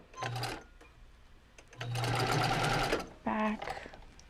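A sewing machine stitches in short bursts: a brief run, a pause, a longer steady run of rapid stitches, then another short burst, recorded close and quiet.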